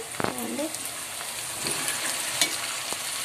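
Boiled potatoes and softened tomatoes fry in a pan for an egg and potato curry, giving a steady close sizzle with a few soft stirring scrapes and clacks.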